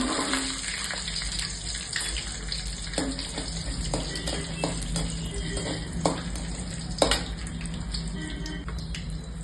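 Cashews fry in hot ghee for rava laddu, giving a quiet, even sizzle with scattered small pops and spatters close by, without talk.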